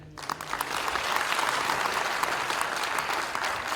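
An audience at an annual gurukul school ceremony honouring guests breaks into sustained clapping that starts abruptly and holds steady and full, with no talk over it.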